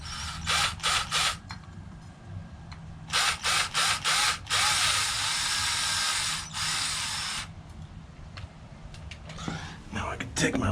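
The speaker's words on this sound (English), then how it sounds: "Got my screw gun here" A screw gun drives screws while mounting an Amcrest AD110 video doorbell: several short whirring trigger bursts, then one long sustained spin and more brief pulses, close and loud, with faint murmuring voice underneath.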